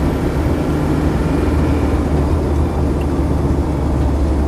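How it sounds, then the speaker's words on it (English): A Land Rover Defender 90 with a 200Tdi diesel engine accelerating on the road as the turbo comes in, giving a loud, steady low drone and rumble heard from inside the vehicle, with no voices. "Feel the turbo kicking in then."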